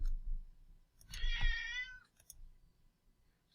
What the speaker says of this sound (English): Sorry if you hear my cat over there. He's going crazy because my son's running around.